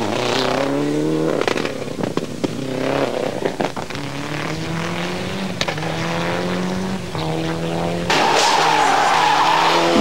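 Rally cars race along a stage during the 1995 Rali Vinho de Madeira, engines roaring and revving loudly with tires skidding and squealing, the engine note rising and falling as the cars pass close by.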